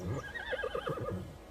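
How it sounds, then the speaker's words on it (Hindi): A hungry war horse lets out a loud whinny of several wavering, rising-and-falling calls, close by and alone with no talk over it. "आपका घोड़ा तो बहुत भूखा है उस्मान साहब।"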